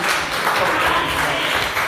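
Church congregation clapping in a continuous, dense wash of applause for the full two seconds, steady and fairly loud with no pauses.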